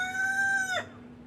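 A rooster crows once, a loud, close cock-a-doodle-doo that rises and holds before cutting off sharply, leaving a faint steady hum behind.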